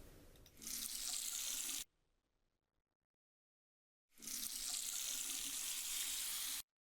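Water running from a tap in the puzzle game Without Escape, a steady hissing gush that flows for over a second, stops for about two seconds, then runs again at full strength before cutting off abruptly.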